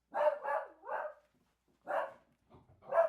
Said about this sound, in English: I apologize for the canine in the background.